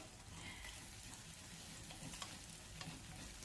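Eggs stirred in a hot frying pan during breakfast, a soft continuous sizzle with faint scraping as they are moved around, quiet and close with no one talking.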